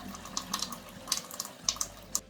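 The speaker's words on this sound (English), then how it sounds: "Flush the water for 3 to 5 minutes before you can use it." Water runs steadily from a Frizzlife MK99 under-sink filter faucet during its initial flush into a sink, with irregular splashes and drips on top of a soft continuous stream, close by.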